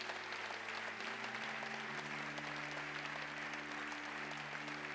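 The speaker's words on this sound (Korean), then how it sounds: "원로 장로님들이 화환을 증정하실 때 큰 박수로 축하해 주시기를 바랍니다." A church congregation at an elders' retirement service claps steadily while a wreath is presented. The dense applause stays fairly faint and continuous, over a low sustained organ-like tone.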